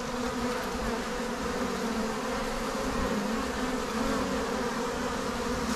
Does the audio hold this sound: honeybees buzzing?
yes